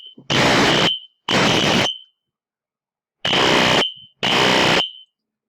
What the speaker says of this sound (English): I've never ever had the fire alarm pulled on me at a hotel ever.